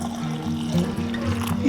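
Peach juice pours from a container into glass canning jars, a steady liquid trickle and fill running close by for under two seconds.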